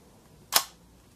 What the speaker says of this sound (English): And that's really a very quiet shutter sound.